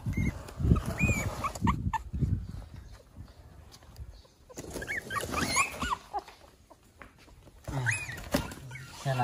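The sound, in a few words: abandoned newborn puppies whimpering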